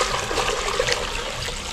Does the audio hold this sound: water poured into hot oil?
yes